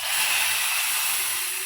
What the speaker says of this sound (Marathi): छान अशी फोडणी बसलेली आहे,